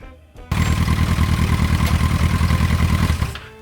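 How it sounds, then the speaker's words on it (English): A Yamaha XJ motorcycle engine with a fault that makes it die when the throttle is twisted runs roughly and loudly up close, then sputters and cuts out near the end. "So the bike was still dying when touching the throttle"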